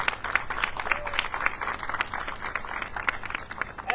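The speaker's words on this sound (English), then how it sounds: "Let's give another round of applause for Congressman Larson." A crowd at a civic arts kickoff event in Hartford claps steadily for a congressman, dense continuous applause with no voices standing out above it.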